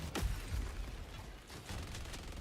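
A sentry turret in Helldivers 2 lets off a loose string of booming shots with rattling mechanical noise in between, uneven in rhythm and moderately loud against a busy background.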